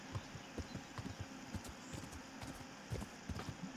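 Horse hooves clop in a steady walking rhythm through a forest in the video game Kingdom Come: Deliverance, quiet and close, repeating evenly with no talking.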